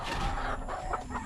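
Pet hens on a backyard farm in egg-laying season cluck softly in short, close bursts over a brief, noisy moment.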